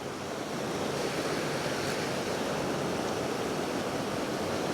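A waterfall in Glen Etive roars as a steady, dense wash of rushing water, loud and constant for the whole stretch with no talking.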